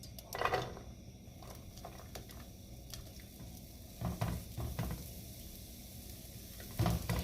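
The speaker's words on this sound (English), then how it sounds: "Once your pan is hot, you can add your butter. And just swirl it around and add your shallots." Shallots hit melted butter in a hot pan for risotto, giving a soft steady sizzle with a few stirring scrapes and clinks, moderately quiet throughout with no talking.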